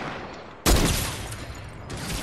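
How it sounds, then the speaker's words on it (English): Sniper gunfire in the video game Fortnite: one loud, sharp shot bursts in and rings off slowly, and a second, fainter crack follows about a second later. "There's snipers, isn't it?"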